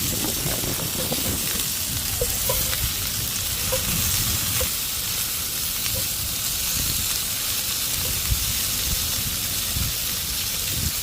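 Lamb chops frying in oil in a hot pan, a steady loud sizzle and crackle with faint pops throughout, no one speaking.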